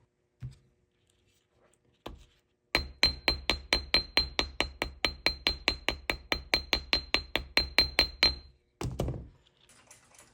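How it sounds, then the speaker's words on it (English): Rapid, evenly spaced metallic hammer taps texturing a brass plate, about two dozen strikes in a steady rhythm, close and crisp, with a few isolated knocks before and after. "I'll texture the one I made with this sandpaper and hammer to match the original."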